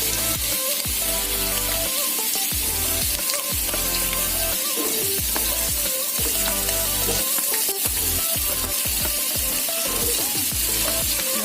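Meatballs fry loudly in a hot pan with shallots for nasi goreng, a constant crackling sizzle broken by repeated scraping stirs and clanks of the spatula, close up and with no talk.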